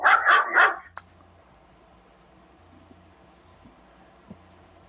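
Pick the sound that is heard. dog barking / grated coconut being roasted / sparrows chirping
dog barking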